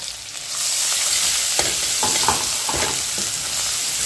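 Garlic, coriander and curry leaves fry in a pan over low heat, a close bright sizzle that flares as the spices go in, with a few scraping stirs.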